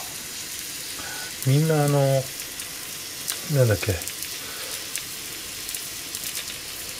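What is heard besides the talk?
pot-au-feu with egg frying in a pan over high heat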